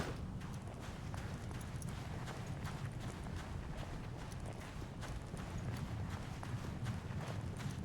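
Quiet, steady clip-clop of horse hooves trotting at an even rhythm in the video game Assassin's Creed Origins, faint and continuous with no voices over it.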